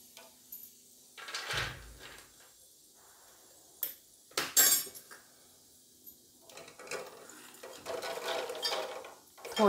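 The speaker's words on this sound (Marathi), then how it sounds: "चुटचुटा आवाज आपला येईपर्यंत तुम्ही छानपैकी त्याला असं परतून घ्या" Diwali chivda being stirred and roasted in a pan, with scattered metal scrapes, clinks and rustling from the utensil, some louder bursts among quieter stretches, heard close and without any talking.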